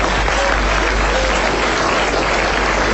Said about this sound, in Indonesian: Tepuk tangan aja, jangan tanggung-tanggung.